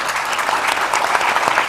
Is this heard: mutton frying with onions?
no